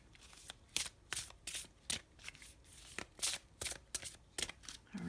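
Color Goddess oracle cards being shuffled by hand in a steady, rhythmic series of crisp riffling bursts, close and quiet, with no talking.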